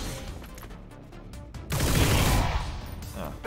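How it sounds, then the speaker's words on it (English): Rapid-fire laser weapon shots in XCOM 2 land as a quick burst of sharp crackling hits. A louder, dense blast follows as the volley lands. No voices. "I can rapid fire him from here."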